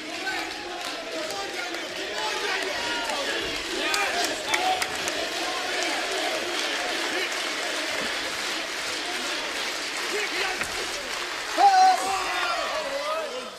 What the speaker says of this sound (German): Publikum hier geht stark mit